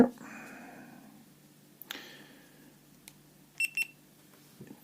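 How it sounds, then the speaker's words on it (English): A brand-new GoPro Hero 7 Black powering up after its battery is inserted gives a few short electronic beeps, first a tonal chime then a quick pair of bright beeps near the end, close and clear in a quiet room. "Beep beep."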